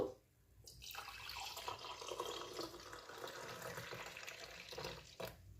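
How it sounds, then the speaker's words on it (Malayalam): Strained tea streams from a vessel into a cup at breakfast in an idli and tomato chutney kitchen, a steady close trickling pour lasting several seconds after a brief quiet start, ending with a short splash. "ചായയൊക്കെ ഒന്ന് അരിച്ച് എടുത്ത് കപ്പിലേക്ക് ഒഴിച്ചു"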